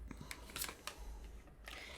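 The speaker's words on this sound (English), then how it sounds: "And I feel like one more shuffle." Tarot cards being shuffled by hand give a quiet run of soft riffling flicks and taps, close and faint, over about two seconds.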